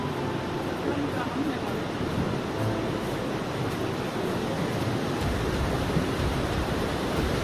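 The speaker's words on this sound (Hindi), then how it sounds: "वो देख सकते हो दोस्तों सरस्वती नदी, ये सरस्वती नदी धरती में समा जाती है" Saraswati river rushing past at Mana village in the mountains near Badrinath, a steady broadband roar of fast water, fairly close and unbroken throughout, with a faint voice underneath.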